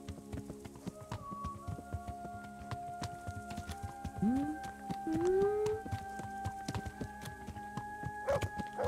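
Horse hooves clip-clop in the medieval role-playing game Kingdom Come: Deliverance, a steady stream of faint clicks under soft tonal in-game sound.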